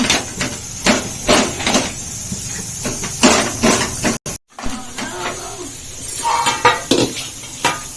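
A spatula works jaggery into sesame seeds in a metal pan, scraping and clanking in steady, rhythmic strokes, loud and close, with a brief dropout midway and no talking.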